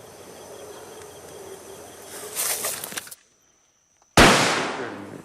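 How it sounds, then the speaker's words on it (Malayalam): A firecracker thrown to scare wild boars from a plantation at night: a crackling burst of rapid pops, a brief silence, then one loud sharp bang that rings and fades over open ground. "പിന്നെ പടക്കം പൊട്ടിച്ച് എറിയുക."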